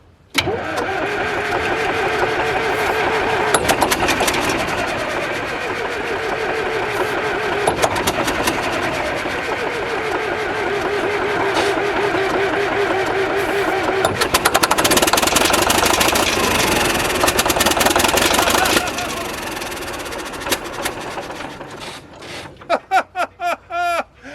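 A vintage Cat D7 bulldozer's heavy diesel engine, unstarted for ten years, cranks with a jump pack and catches, running rough and loud with knocking and smoke before sputtering out in a few uneven coughs.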